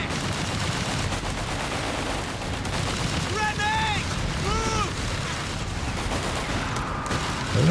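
Anti-tank guns blasting in a 2v2 Company of Heroes 3 World War II battle, booming shots mixed with rattling gunfire, whistling shells and a dense rumbling battle din throughout.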